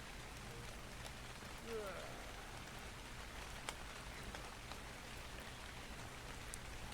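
Steady rain hiss falls across the whole stretch in the video game Ark: Survival Evolved, a broad even wash of drops with a faint brief chirp near the start and a few soft ticks.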